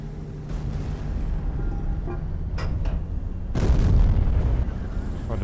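Tank cannon fire and a heavy shell impact in World of Tanks, an M103 heavy tank battle on the Murovanka map, with a loud booming blast a few seconds in over low engine rumble.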